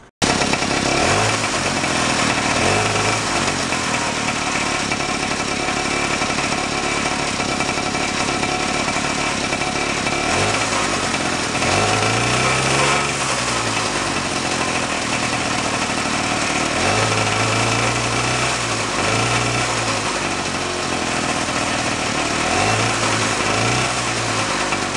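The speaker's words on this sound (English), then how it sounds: "Idle's a lot better." Motorcycle engine on a bike build idling after a spark plug change, loud and close for the whole stretch, with a steady throbbing idle and occasional brief rises in revs, no talking.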